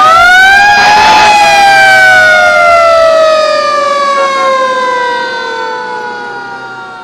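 A loud emergency vehicle siren sounds close by near a roundabout, one long wail that swells and then slowly falls in pitch and fades as it moves away.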